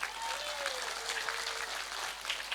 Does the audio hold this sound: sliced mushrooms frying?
no